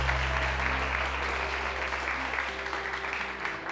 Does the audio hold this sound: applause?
yes